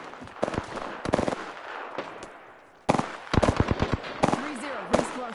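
Bursts of automatic gunfire from an Apex Legends match, rapid cracking volleys in two clusters separated by a brief lull, loud and close, with a voice talking over parts of it.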